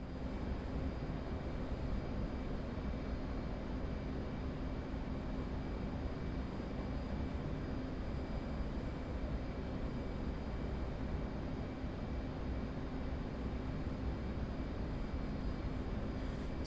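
Aircraft engine drone in a flight video game during a laser-guided bombing run, a steady, unbroken, close engine roar that holds at the same level for the whole stretch with no voices.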